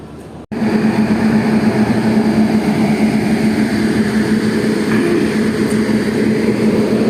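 A train at Yesvantpur Junction with a WAP-7 electric locomotive, a loud, steady low rumble and hum filling the clip after an abrupt start, with no talk.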